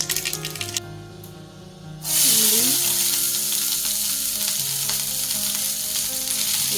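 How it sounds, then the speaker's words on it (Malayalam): Mustard seeds tossed into hot frying oil burst into a loud, dense, crackling sizzle that starts abruptly after a quieter stretch of background hum and continues steadily up close, with no one talking. "കടുക് ഇടണം."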